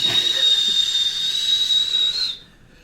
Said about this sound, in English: The whistle blowing.